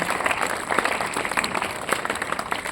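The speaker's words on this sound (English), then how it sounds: "Clap for them." Steady applause from a group of students at a math quiz, a dense patter of claps sustained throughout at moderate volume.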